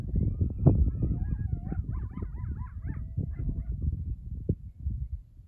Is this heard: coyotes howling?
yes